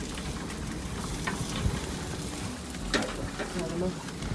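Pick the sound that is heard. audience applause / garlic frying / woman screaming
garlic frying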